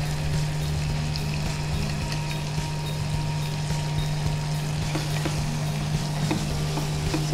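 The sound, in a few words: prawns frying with turmeric and biryani masala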